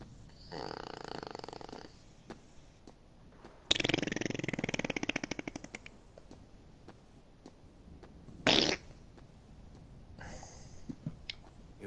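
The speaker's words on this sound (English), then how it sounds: "I like hearing fart noises through the TV." Cartoonish fart noises from the video game Kingdom Hearts 2 come through a TV speaker, several buzzy, rasping bursts of differing length separated by quieter gaps, fairly close and loud over low room noise.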